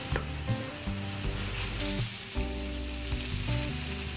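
Shrimp stirred in hot oil with turmeric and red chili powder sizzles loudly and continuously, with a spatula scraping in a regular rhythm several times close by.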